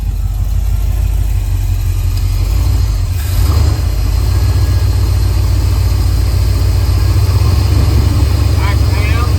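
A Ford 460 engine with electric chokes idles nearby, giving a loud, steady low rumble that holds even throughout, with a brief shift in tone near the start.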